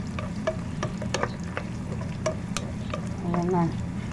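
Garlic and onion sauté in a hot pan, a steady sizzle and crackle with occasional stirring scrapes, close and moderately loud, with no talking.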